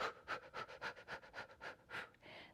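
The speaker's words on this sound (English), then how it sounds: "you can use more of a panting breath" Quick, rhythmic panting breaths used to slow pushing during birth, about ten short, evenly spaced huffs, close and soft, demonstrated by a voice with no other sound.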